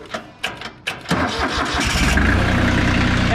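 An old lawn tractor with a broken key switch and a failing solenoid, started with a screwdriver: three short cranking bursts, then the engine catches and settles into a loud, steady running drone close by.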